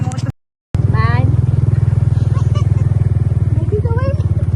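A motorcycle engine idles close by with a steady, loud rhythmic thrum that keeps running throughout, cut briefly by a silent gap near the start, while people talk over it.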